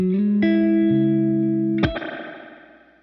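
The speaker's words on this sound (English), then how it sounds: "It sounds like a legit spring reverb" Sustained electric guitar notes ring out through a UAFX Golden Reverberator pedal, then a sharp crash of springy reverb splashes and slowly decays into a metallic echo.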